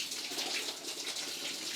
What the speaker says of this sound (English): I'm just going to rinse these off